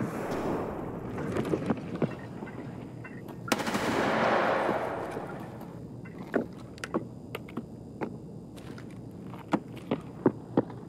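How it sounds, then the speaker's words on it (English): An AK rifle firing PS rounds in the video game Escape From Tarkov: a run of sharp shots, loose and uneven at first, then quicker cracks toward the end, heard over a rushing, windy background with no talk. "Shooting PS rounds, it's an AK."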